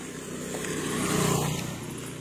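A motorcycle on a dark road at night approaches, its engine hum swelling to a peak midway and then easing off, moderately loud with no talk.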